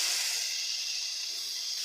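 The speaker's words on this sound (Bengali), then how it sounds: "এবার আমি ভালো করে কষিয়ে নিব।" Soybean chunks and potatoes with turmeric and salt sizzle in a hot pan, a steady loud hiss close up with no voices over it.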